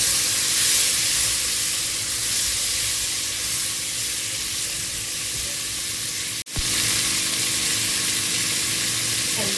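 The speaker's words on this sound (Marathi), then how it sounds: "वाटाणे टाकते याच्यासोबत, मिक्स करून घेऊया।" Peas are stirred into a hot pan with chopped carrot for a mixed vegetable dish, giving a continuous close sizzle and frying hiss with faint stirring, broken by one brief dropout.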